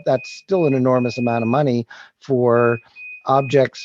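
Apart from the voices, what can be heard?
electronic beeping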